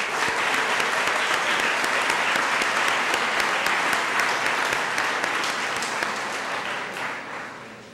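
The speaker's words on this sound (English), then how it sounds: "Let's give all these individuals a round of applause." A crowd at the LBCC College Day celebration breaks into a full, steady round of applause honoring committee members, dense and even before tapering off in the final second.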